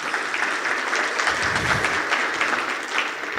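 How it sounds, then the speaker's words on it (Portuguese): Steady, moderately loud applause from a seated audience at a corporate opening session and lecture, continuous clapping with no talk over it. "Grande, uma salva de palmas para o Sérgio."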